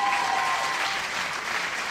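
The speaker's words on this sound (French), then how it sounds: "Vous pouvez l'applaudir, oui, vous pouvez l'applaudir." Audience applause at an evening concert in Digne-les-Bains, a dense, steady burst of clapping from a crowd heard up close, lasting under two seconds.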